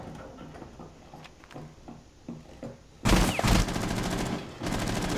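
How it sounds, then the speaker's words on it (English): Gunfire pouring in through a master bedroom window in the Rainbow Six Siege video game, scattered muffled thuds and shots giving way to a loud sustained burst of automatic fire at close range. "They're shooting in through the master bedroom window."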